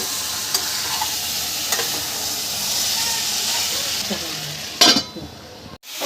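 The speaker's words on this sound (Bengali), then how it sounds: "মশলাটা কষানো হয়ে গেছে দেখবেন দেখুন তেল ছেড়ে দিয়েছে" Masala paste sautéing in oil for Bengali egg curry, a continuous close hiss and sizzle with a few soft stirring scrapes and a brief louder clatter near the end, no speech.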